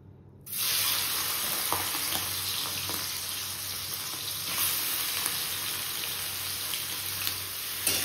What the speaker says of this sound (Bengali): এবার এই চিংড়ি মাছগুলোকে ভেজে নেব।